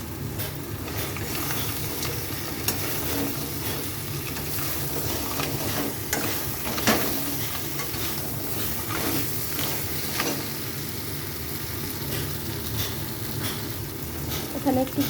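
Crab goes into a half-cooked spicy masala, sweetened slightly, for village-style kekra kosha, giving a steady close sizzle with intermittent stirring clatter across the whole stretch.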